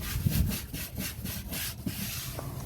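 Steady back-and-forth scrubbing of DEKit flooring during cleanup, a rhythmic rubbing stroke repeating roughly every quarter second, close and moderately loud with no talking.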